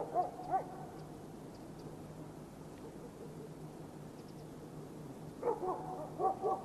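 Dogs bark below a hillside on the old inner-German border near Schierke and the Wurmberg, a few distant, faint yips and barks in two short bursts at the start and end over quiet background hiss.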